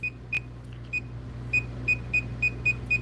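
A handheld circuit breaker finder tester emits a series of about nine short, sharp electronic beeps, irregular at first and then evenly spaced, over a low steady hum.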